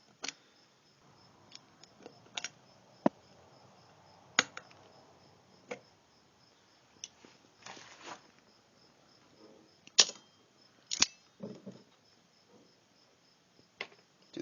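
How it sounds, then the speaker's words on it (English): Vise grips squeezing the pins out of a truck or car U-joint, heard as close, irregular sharp metallic clicks and snaps with a few short scraping, grinding bursts in between, over a quiet background and with no talking. "I'm going to take the vice grips, squeeze these pins out of here"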